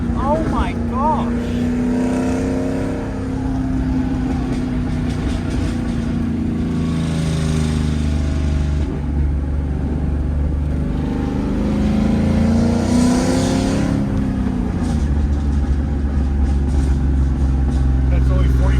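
A 600 HP LS-swapped Volvo 244 engine revs up and settles repeatedly, its deep rumble rising and falling close by, with voices talking over it.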